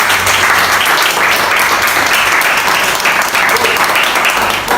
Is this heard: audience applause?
yes